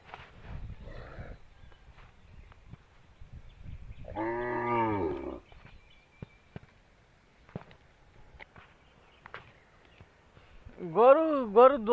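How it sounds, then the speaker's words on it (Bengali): A village cow moos twice, calling its calf: one long, loud, resonant low moo near the middle and a second rising call at the end, with soft rustling and faint background sounds between them. "গরু যখন ডাকছে আর বাচ্চারে"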